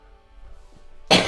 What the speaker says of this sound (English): This cough never goes away